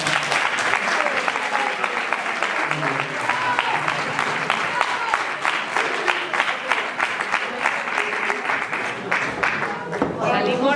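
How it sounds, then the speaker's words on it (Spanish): Audience at the close of a conference on interwar propaganda posters, giving a sustained, dense round of clapping from many hands that continues steadily to the end. "Y desde aquí le despedimos y le damos un fuerte aplauso"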